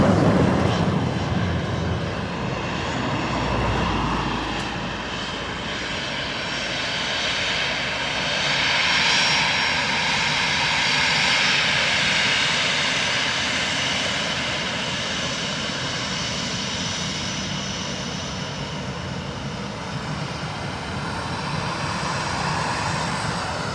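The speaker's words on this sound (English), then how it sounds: "Ryanair from London Luton, just about to touch down." Ryanair airliner from London Luton landing at Dublin Airport, heard as a sustained loud jet engine roar with a swelling, shifting tone as it passes overhead, continuous throughout.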